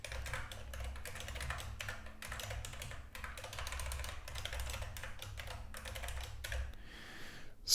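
Close, continuous typing on a computer keyboard, a rapid patter of key clicks in quick bursts with short gaps, stopping near the end; no voices.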